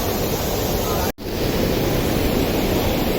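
Rushing water at Thottikallu waterfall, swollen after rain, roars as a loud, steady broadband wash, cut by one very brief dropout just after the first second.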